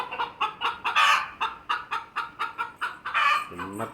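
A chicken clucks in a quick, steady run of about a dozen short, close calls, with a couple of louder squawks and a faint voice near the end.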